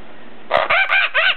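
Dusty, a pet bird, lets out a quick run of four loud, close, squawking calls after a brief quiet pause.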